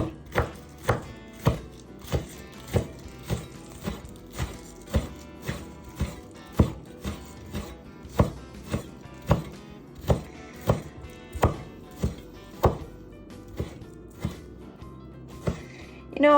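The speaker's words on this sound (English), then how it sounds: "for the darker green part, I'm gonna slice them really thin because this is gonna be garnished" A knife slicing dark green onion tops thinly on a cutting board, with a steady, evenly spaced chop about once per second that carries on for a long stretch, some faint background noise throughout.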